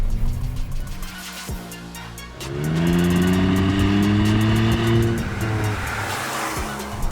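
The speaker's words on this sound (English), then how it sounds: "You've got a nice, sportier exhaust note." A 2021 Hyundai i20 N Line engine revs up and accelerates hard, its sporty, throaty exhaust note rising in pitch through several gear changes on the road, loud and close with no talking.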